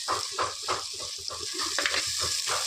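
Chili powder, turmeric and masala stirred through a curry in a pan, with a steady sizzle and a spoon scraping in rhythmic strokes, close and clear, no talking.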